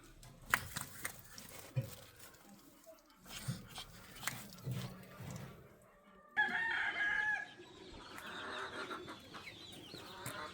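Bantam chickens cluck and squawk nearby on a hobby farm with a rooster crowing loudly partway through, amid rustling and faint barnyard noise.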